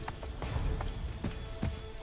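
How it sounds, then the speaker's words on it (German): Horse hooves clip-clop in an Assassin's Creed III video game ride, with an irregular run of fairly faint thuds, several per second, under a constant background. "Da war gerade eine Truppe, deswegen reiten wir jetzt hier"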